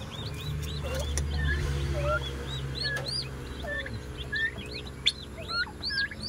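Pet turkeys in backyard pens call out in a busy mix of gobbles and higher chirping notes, several birds overlapping at moderate distance over a steady low rumble.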